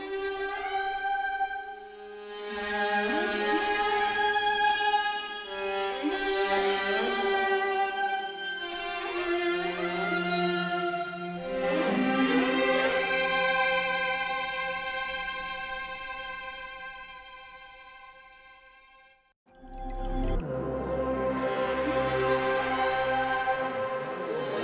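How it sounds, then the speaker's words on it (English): Layered string octaves over synth in a hybrid film cue, with sustained swelling phrases, then a brief drop to near silence before the strings come together in one unison ascent. "at the very end of their whole statement, they come together and do one unison ascend"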